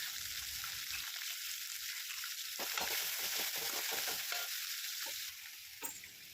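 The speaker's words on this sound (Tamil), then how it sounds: "கருவேப்பிலை, நறுக்கி வச்சுருக்கிற வெங்காயம், இது ரெண்டுத்தையும் போட்டு நல்லா வதக்கி எடுத்துக்கணும்." Curry leaves and chopped onions sizzle and sauté in a hot pan, with a spoon scraping and stirring in short strokes through the steady frying hiss.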